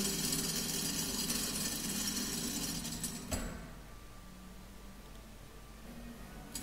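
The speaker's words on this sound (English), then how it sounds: "When I turn the crank, the whole thing comes away." A hand crank in the Lost Horizon video game winds down a chandelier on a hook screwed into a ceiling slab, giving a steady grinding, ratcheting mechanical whir that stops abruptly partway, leaving quiet room tone.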